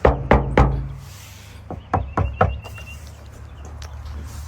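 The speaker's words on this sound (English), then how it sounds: "So I'll just knock on the top here. You can hear how hollow it is, and on the back, and then the top." Knuckles rap on a hollow car body panel before sound deadening is fitted, three sharp resonant knocks, a pause, then four more knocks, close and loud, each with a short hollow ring.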